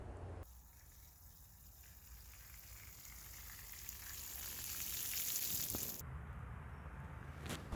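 Water pouring steadily over a freshly planted garden bed topped with potting mix and a light mulch, a continuous close gush that swells in the middle and cuts off near the end.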